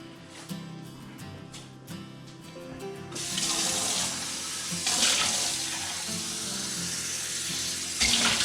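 A kitchen tap runs into a pressure cooker pot while black chickpeas are cooked, starting as a thin trickle and turning into a full, loud gush with rising splashing.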